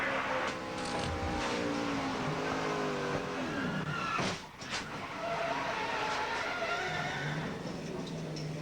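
Tony Stewart's Xfinity Series race car at speed from the onboard camera, a loud steady engine roar with a brief dip and rumble of impact midway, then continuing.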